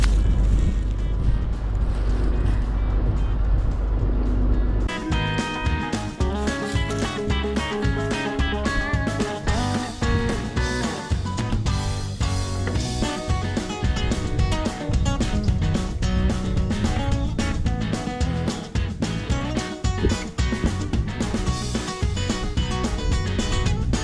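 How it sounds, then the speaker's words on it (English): A John Deere 7520 tractor engine, converted to drive a deep well pump, runs loud and close. A steady low drone opens, then gives way to a busy, rattling mechanical roar that holds without a break and with no voices. "John Deere 7520 has now just been converted into a deep well pump motor machine"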